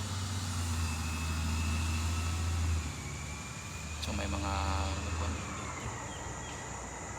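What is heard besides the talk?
garbage truck driving by at a park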